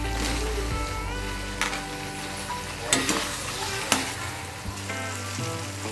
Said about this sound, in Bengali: তো এখন এর মধ্যে দিয়ে দেব কেটে রাখা পেঁয়াজ ও ক্যাপসিকাম।